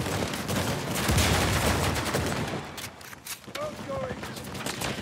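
Dense gunfire bursts in an Uncharted 4 multiplayer King of the Hill match, loud and continuous through the first half, then thinning into scattered shots with short whistling game effects near the end.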